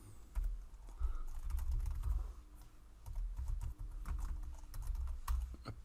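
A computer keyboard is typed on steadily while entering a Heroku Procfile for a Laravel app, with soft, close key clicks over a low background thump.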